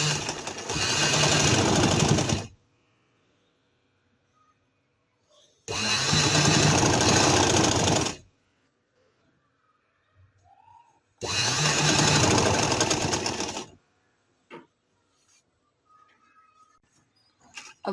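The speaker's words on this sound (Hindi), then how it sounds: "सिलाई पे सिलाई लगाते जाएंगे।" Sewing machine stitching lace onto trousers, running in three loud sustained bursts of about two to three seconds each, separated by quiet pauses with faint handling clicks.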